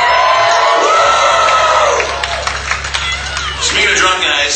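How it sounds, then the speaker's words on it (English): Crowd cheering and whooping at a live country-style concert, loud and dense with scattered shouts over a low stage hum, easing slightly midway then swelling again. "Let's give him a big round of applause."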